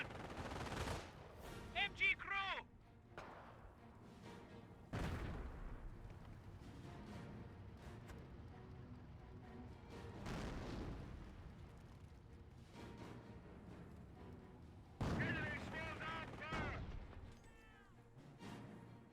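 Nebelwerfer rocket barrage in the Company of Heroes strategy game, several bursts of whooshing launches and crackling explosions arriving in waves amid distant gunfire, with a commentator talking over parts of it.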